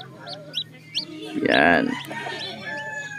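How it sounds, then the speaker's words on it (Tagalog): A newly hatched chick gives a few short, high peeps, followed by a louder call, near a home incubator while someone speaks nearby. "Lumabas na pala yung sisiw dito."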